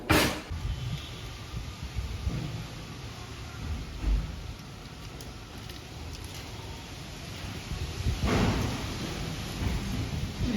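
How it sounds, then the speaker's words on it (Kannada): Rain pours steadily at a home during a storm, a continuous broadband wash with a louder rumble of thunder swelling near the end; no one speaks. "ಮಳೆ ಬಂತು ಅನ್ಸುತ್ತೆ ಕ್ಯಾಪ್ಚರ್ ಮಾಡ್ತೀನಿ ಬನ್ನಿ ತೋರಿಸ್ತೀನಿ ನಿಮಗೆ"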